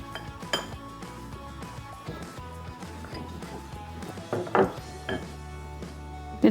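Flour and cherries are mixed in a bowl for dark chocolate cherry cookies, a close run of clinks and knocks of a utensil against the bowl with a few sharper taps near the end.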